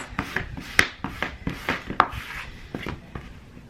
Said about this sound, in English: Make sure you burnish it really well, especially towards the ends.